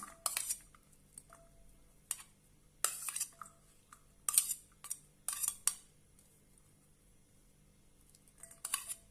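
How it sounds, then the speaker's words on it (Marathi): Chopped onion, tomato and boiled sweet corn are tipped into a bowl, heard as a few quiet, separate bursts of clinking and scraping from a spoon against the dish, with near silence in between. "आता आपण हे सर्व या बाउलमध्ये घालूया"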